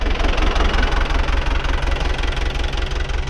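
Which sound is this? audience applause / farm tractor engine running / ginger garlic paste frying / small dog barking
farm tractor engine running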